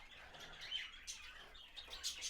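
Zebra finches chirping in an aviary, quick high tweets and short calls repeating near and fairly faint, with brief wing flutters and no voices.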